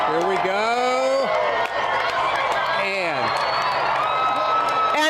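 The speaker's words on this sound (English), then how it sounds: "And the crowd goes wild." Crowd of onlookers cheering and whooping during a total solar eclipse, loud sustained shouts and excited voices rising over continuous crowd noise throughout.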